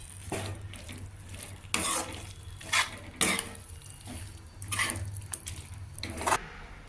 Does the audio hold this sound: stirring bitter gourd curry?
yes